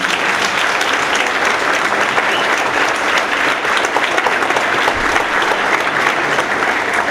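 Loud, sustained applause from a concert audience at an annual ensemble concert in January, dense clapping filling the hall evenly without letting up.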